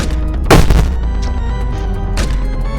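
A dynamite revolver fires in a video game, giving a loud, sharp explosive boom followed by a second, softer blast amid continuous game background noise.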